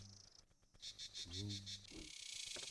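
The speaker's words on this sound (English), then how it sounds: "He's a giant cicada because the sound that he's making." A giant cicada monster in the video game Frogmonster makes a buzzing insect drone that pulses in a steady rhythm of about six beats, mixed with low tonal game sounds and other effects.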